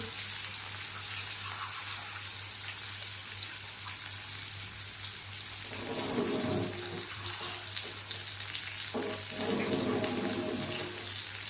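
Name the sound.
washing lentils (dal) under running tap water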